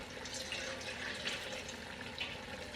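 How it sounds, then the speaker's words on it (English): Water pours steadily into a pot of Jamaican curry chicken with bell pepper, onions and garlic, a continuous soft splashing rush lasting a few seconds, fairly quiet and without voices. "we're going to add in to that some more water"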